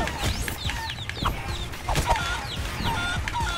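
Chickens cluck and squawk in the video game Guacamelee, several quick clucks in a busy flurry over game sounds throughout.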